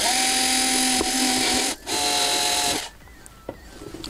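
A drill fitted with a 6 mm bit bores a hole for a coupling in a DIY filament box, whining loud and close in a steady run that breaks once briefly, then cuts off, followed by faint handling clicks.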